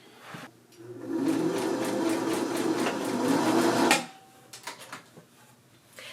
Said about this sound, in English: I'm just going to do a regular straight stitch here.